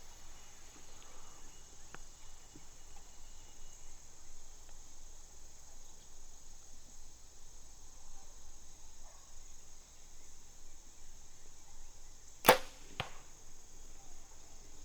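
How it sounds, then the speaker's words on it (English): Arrows fired from a Hoyt RX9 Ultra compound bow at a target while hunting, heard as a sharp loud snap about two-thirds through, then a quicker fainter second snap, against steady outdoor insect buzz. "we're gonna go ahead and shoot 3 arrows"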